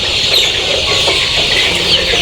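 Golden (Sonali) hens on a poultry farm cluck and call continuously at close range while scattering their feed into the litter, amid a steady background hum of the shed.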